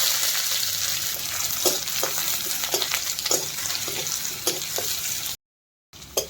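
Onions fry in oil with whole garam masala spices, cardamom, black pepper and bay leaves, giving a continuous close sizzle broken by regular scraping stirs. A brief dropout comes near the end before the frying returns.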